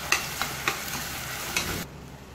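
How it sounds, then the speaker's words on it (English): Ground masala sauteing with tomatoes in a pan for masala tomato rice, a close sizzle broken by several spatula scrapes before it drops off abruptly near the end. "So we can saute everything together."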